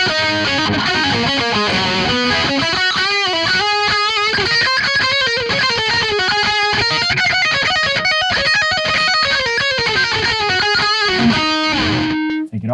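A high-gain electric guitar lead through an RVXX amp sim with a boost pedal plays fast, distorted sustained notes and bends, loud and continuous, ending on a held note.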